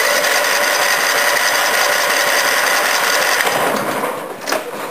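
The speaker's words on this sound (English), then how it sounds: "Alright, just going to see if it'll idle properly now." A Briggs & Stratton 14 hp OHV V-twin engine runs loud and close with a steady mechanical clatter, just after its valve cover was refitted, then dips and stumbles briefly near the end.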